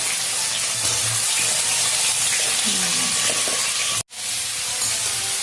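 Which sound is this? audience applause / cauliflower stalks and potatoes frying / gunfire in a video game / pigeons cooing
cauliflower stalks and potatoes frying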